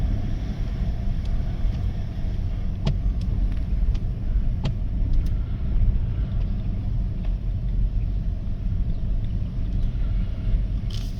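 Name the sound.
2017 Ford Expedition engine running while driving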